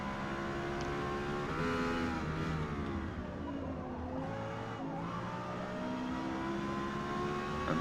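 A Lexus LFA races in the Forza Motorsport video game on an S-class track at Spa or Daytona, its engine loud and continuous. It revs through rising and falling gear pitches, with brief tire squeal as the car slides through corners.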